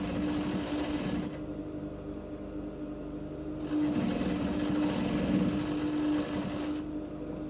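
Sewing machine running steadily while stitching a corset, a continuous close mechanical whir with a humming motor tone that speeds up and slows in stretches, with no talking.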